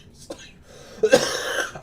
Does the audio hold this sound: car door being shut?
no